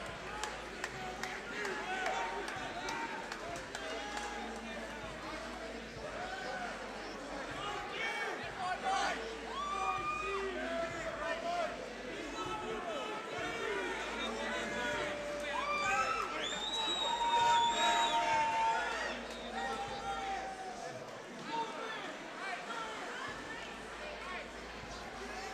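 A hometown crowd at a mixed martial arts cage event cheers and claps steadily, with shouts rising and falling around a loud announcer-style voice speaking over it.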